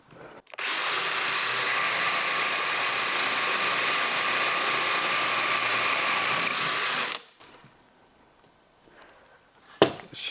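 A Japanese drilling tool boring a hole in wood, a loud steady whirring drone lasting about seven seconds, then stopping abruptly, followed by quiet and a brief knock near the end.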